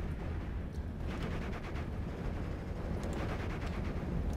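Howitzer artillery fire in the WWII strategy game Steel Division: Normandy 44, a dense rumble of distant booming shots and scattered cracks rolling on continuously without a pause.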